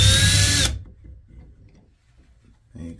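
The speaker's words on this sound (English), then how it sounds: "Next thing you're going to do is take out this Phillips head screw that's right in the middle. Just grab it and put your drill in." Power drill backing out a Phillips head screw from a Moen shower faucet handle, one loud whirring burst for under a second, then quiet handling noises and a brief second whir at the end.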